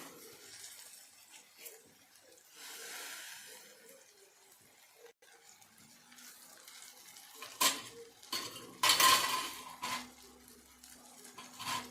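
Moth bean curry is stirred and mixed in a pan, with scattered metal scrapes and clinks of a spoon against the pan and a faint background sizzle, louder toward the end.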